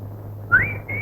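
Short whistle from a person in a police station, a rising tone that swells briefly then holds over a steady low hum, moderately loud and close.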